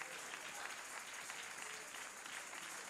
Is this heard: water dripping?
no